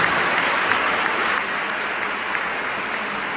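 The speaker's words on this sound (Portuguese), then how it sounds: "Aplauda o Senhor" An audience at a church retreat applauds the Lord, a dense, loud, steady wash of clapping that holds evenly throughout.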